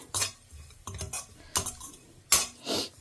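Spoon clinks and scrapes against a pan in a few separate bursts while a tempering with asafoetida is stirred for temple-style mango rice, close and fairly quiet with pauses between strokes.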